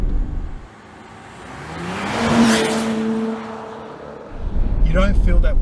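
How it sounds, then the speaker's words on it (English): A Porsche sports car corners quickly on a track, its engine and tyres producing a rising, sustained whir and hum that swells and fades as it takes the bend, close and fairly loud, with no one talking. "I'm taking a corner just as quick as I would in a sports car"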